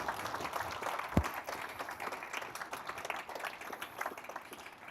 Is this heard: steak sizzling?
no